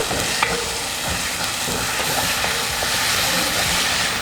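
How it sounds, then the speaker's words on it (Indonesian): Ground spice paste with ginger, lemongrass and bay leaves stir-frying in a pan, a steady close sizzle with faint scraping of the spatula throughout. "ini bumbu halusnya kita tumis"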